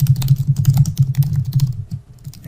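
Rapid, steady typing on a computer keyboard while signing up with an email address, a close, continuous run of clicking keystrokes that slows briefly near the end.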